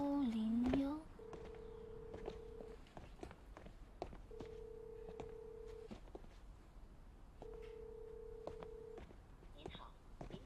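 A telephone call fails to connect: dialing tones come first, then three long, evenly spaced ringback tones sound faintly in a quiet room, with light background movement.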